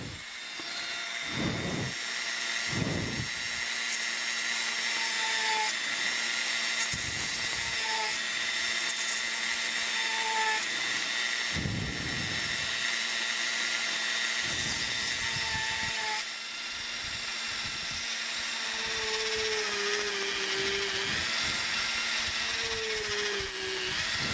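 A power drill with a worn bit whines continuously with steady high tones, interrupted by a few short bursts and pauses as it bores screw holes in a guitar body, close and loud.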